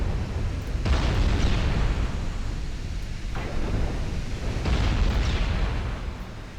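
Heavy explosions from a warship's X-turret being destroyed in a Greek naval campaign video game, a booming blast near 0.9 s followed by further rumbling detonations around 3.4 s and 4.8 s, loud and low-heavy with no talk.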